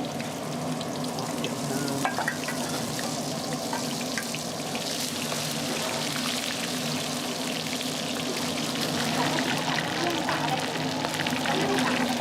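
Sand crabs coated in egg and spices deep-fry in hot oil, giving a steady, dense sizzle and bubbling crackle that stays even and fairly close throughout.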